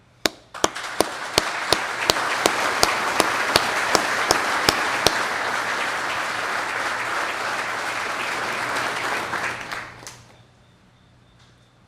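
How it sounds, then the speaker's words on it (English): An outdoor crowd at a 9/11 remembrance ceremony honoring heroes breaks into sustained applause. A few sharp, close claps ring out first, then a dense, steady wash of clapping lasts about ten seconds before fading out. "assist in honoring these people with a round of applause"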